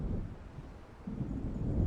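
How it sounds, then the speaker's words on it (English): A thunderstorm rolling in over the water in the game Alan Wake, a steady deep rumbling roar that swells louder halfway through, with no voices. "It seems there's a storm coming."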